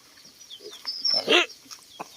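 A crossbreed wild boar pig roots in the soil, giving faint, brief snuffling grunts and snorts. A louder burst comes near the middle against a quiet outdoor background.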